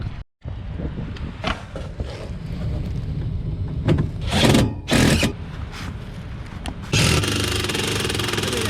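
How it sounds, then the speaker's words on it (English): A power drill driving screws during a York furnace heat exchanger replacement, with several bursts of whirring motor and a longer steady run at the end, loud and close over a continuous low rumble. "I'm going to start putting some screws in"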